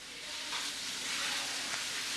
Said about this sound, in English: Add the chicken and stir fry over moderate heat until it's no longer pink